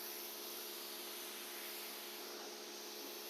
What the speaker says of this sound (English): it makes the sound of the pressure washer super annoying